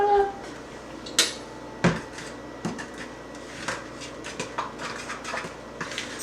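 A fork stirs protein funfetti cupcake batter in a bowl, tapping and scraping against the sides in uneven clinks, with a couple of sharper knocks early on and softer taps after.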